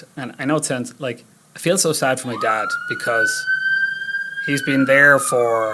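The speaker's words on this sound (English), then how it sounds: "That's the ambulance coming to pick him up." An ambulance siren sounds in the background as it arrives for a man, a steady rising wail that holds for several seconds beneath someone speaking in the foreground.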